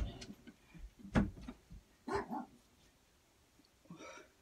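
An indoor dog gives a few short, soft barks and yips spread over several seconds. The sound is faint and somewhat distant, with quiet pauses between the barks.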